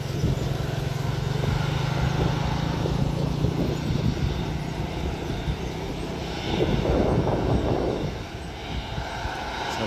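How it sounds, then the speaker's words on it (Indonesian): A Sriwijaya Air passenger jet taxiing before takeoff at Sultan Hasanuddin International Airport, Makassar, drones steadily at a distance with a low hum and rushing noise, and wind buffets the microphone. "pesawat Sriwijaya Air sudah di ujung selatan, siap-siap mutar menghadap ke utara untuk persiapan take off"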